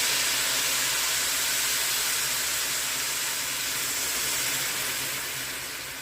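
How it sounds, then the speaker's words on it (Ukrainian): Boiling water is poured over rice into a hot pan, producing a steady, fairly loud hissing sizzle that fades slightly toward the end, with no talking. "І тепер заливаємо окропом, а заливаємо."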